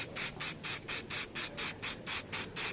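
Spray paint is applied to a Suzuki GSX-R 600 K2 motorcycle part in rapid repeated bursts, about ten short hissing passes in a steady rhythm, close and fairly loud with no talk.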